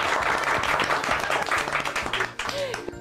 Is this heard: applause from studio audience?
yes